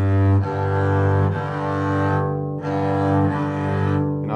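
Two low bowed double bass tones sound together as sustained harmonics for tuning, steady and close, with a brief break midway before resuming.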